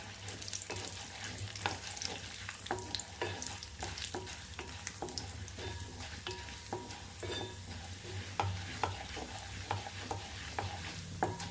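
Urad dal fries in a little oil in a pan for brinjal coconut chutney, a steady low sizzle broken by regular stirring scrapes and taps, close and fairly quiet with no voices.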